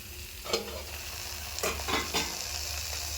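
Greens and onions are stirred and tossed in a pan over a steady sizzle, with a few distinct scraping strokes against the pan, close and moderately loud, and no one speaking.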